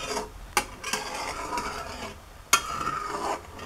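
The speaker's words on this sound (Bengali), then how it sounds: "খুব বাবল ওঠা শুরু করেছে, এই ফাঁকে খুব ঘন ঘন নাড়তে হবে।" A spoon scrapes and stirs bubbling milk in a pan as it thickens into condensed milk, with soft rhythmic rubbing strokes broken by two sharp knocks against the pan.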